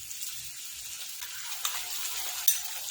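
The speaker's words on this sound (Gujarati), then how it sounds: "તો 2 થી 3 મિનિટ માટે ડુંગળીને શેકી લઈશું આપણે" Onion paste being stirred and roasted in a pan for Punjabi-style chole, a steady frying hiss with rhythmic low scraping of the spoon and a couple of sharper clinks near the end.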